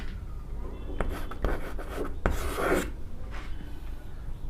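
A pen writing out a geometry solution on paper, short scratchy strokes and rubbing clustered in quick bursts, close and fairly quiet, with no speech.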